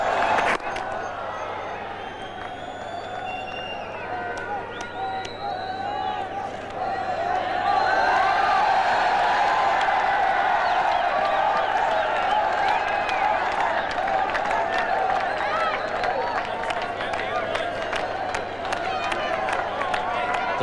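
A local cricket crowd at a 1996 World Cup match between England and Holland cheers and applauds, a broad distant roar that swells midway and holds steady, with commentary voices running over it.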